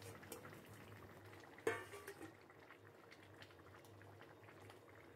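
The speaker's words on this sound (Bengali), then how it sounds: "এবার ঝোলটা ফুটে উঠেছে" Bengali tilapia fish curry with beans, potato and bori simmering in a pot: a faint, steady low bubbling, broken once by a brief clink, with no talking.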